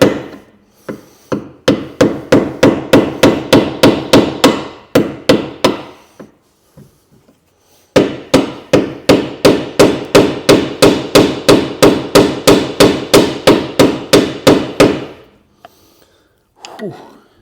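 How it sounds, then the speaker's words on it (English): A metal tool standing in for a chisel is hammered between ball joint parts on a Vauxhall Meriva A VXR. Rapid, evenly spaced strikes ring out in two long close-up bursts, with a pause and a few scattered taps. "I'm going to have to get a chisel in between the two bits"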